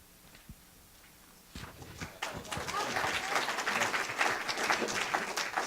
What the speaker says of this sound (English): that was flipping the page as it continues